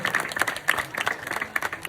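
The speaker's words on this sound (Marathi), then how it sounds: "प्रथम क्रमांक पटकावले ते साई समर्थ मित्र मंडळ यांच्यासाठी टाळ्या वाजवा" Audience applause for Sai Samarth Mitra Mandal, first-place winners at a village Diwali festival rangoli and fort competition in Ghodivali: brief, moderately close clapping from a small crowd with uneven bursts of claps.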